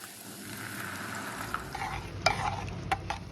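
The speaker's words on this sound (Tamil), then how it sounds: "இப்போ வெங்காயம் போட்டு வதக்கிங்கோ" Sliced onions sautéed with salt, turmeric and water for a potato masala dosa filling sizzle steadily in a pan while a spoon stirs them, with several sharp scraping clinks against the metal close by.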